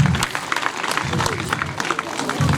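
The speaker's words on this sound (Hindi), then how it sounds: "जोरदार तालियों के साथ स्वागतम" Applause from a school audience welcoming a guest at a magazine release function, a short burst of clapping mixed with a voice speaking over it.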